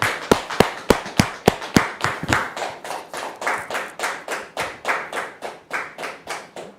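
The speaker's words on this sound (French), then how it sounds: "Dame Hélène, sous vos applaudissements" A television studio audience claps in welcome for a guest, the applause beginning as a few sharp, separate claps and quickly settling into a steady rhythmic clapping in unison.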